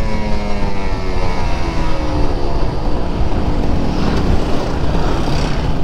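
A Kawasaki Ninja RR two-stroke sport motorcycle with its stock exhaust runs steadily at moderate revs, a loud continuous buzzing engine drone that barely varies, with no talk over it.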